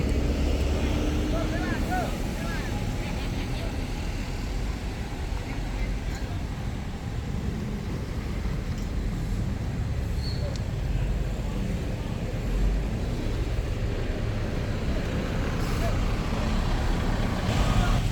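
A KM Trans bus pulls into Pondok Pinang bus terminal with a steady, loud, low engine rumble. Other traffic noise sits beneath it, and someone talks over it the whole time.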